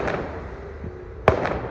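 Firecrackers burst in the sky during Gurpurab celebrations, one sharp crack standing out over a dull rumble of distant pops and crowd noise.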